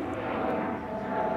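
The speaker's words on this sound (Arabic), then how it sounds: "عدا هذه الطيارة اللي تفوت من فوق هاي" An airplane passes overhead with a steady, moderately loud drone that holds evenly throughout the short stretch, with no voices over it.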